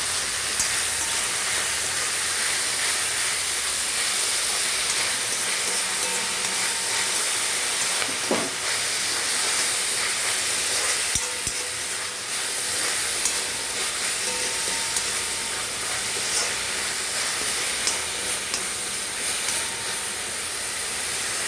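Fenugreek leaves frying in oil for a tomato and fenugreek curry, heard as a steady, fairly loud hissing sizzle that holds at an even level throughout.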